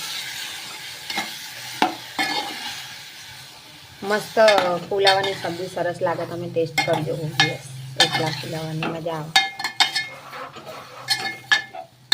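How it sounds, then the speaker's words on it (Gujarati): Spices crackle and sizzle as they hit hot oil in a pan for a cauliflower curry, with a spoon clinking and stirring against the metal in quick irregular bursts, close and alone without speech. "આ રીતે આપણે વઘાર કરી દઈશું વઘાર ઉડી પણ જશે"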